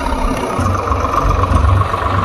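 A tractor engine runs at a steady idle in a paddy field during rice planting, a continuous mid-pitched drone with a low throb underneath and no clear change in speed.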